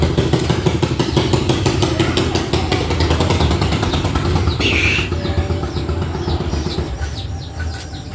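A motorcycle engine runs close by in a loud, steady idle with a fast, regular pulsing throb that eases slightly toward the end, while birds chirp in the background during the later seconds.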